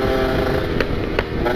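A ported Kawasaki Ninja RR two-stroke motorcycle with a loud aftermarket exhaust revs hard and close. It gives a continuous raspy engine roar with sharp bursts at regular intervals.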